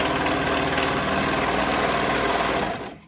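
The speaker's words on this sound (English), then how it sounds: "So I'm using my serger to sew those" A serger sewing machine stitches fabric shoulder seams, giving a steady, loud, rapid mechanical whir that holds continuously and then stops in the final moment.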